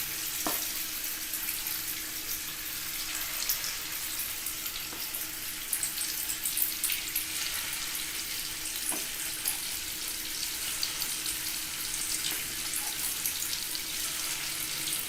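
Thaen mittai honey candy batter dropped into hot frying oil, giving a steady, dense bubbling sizzle throughout with a few faint clinks, no talking.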